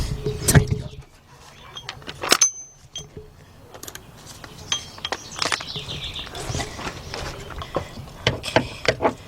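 Metallic ratcheting and clinking of hand tools tightening nuts on the evap system of a 2002 Jeep Grand Cherokee 4.0, scattered irregular clicks and clanks at close range with some brief low talk.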